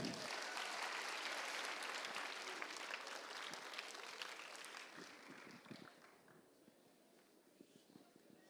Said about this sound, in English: A round of applause to all of you.